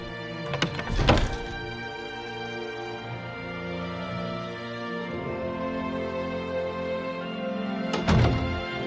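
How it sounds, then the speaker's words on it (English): Hammers bang away in a video game, with a cluster of sharp metallic strikes at the start and another near the end over a steady, ringing tonal background. "I always love the sound of hammers banging away."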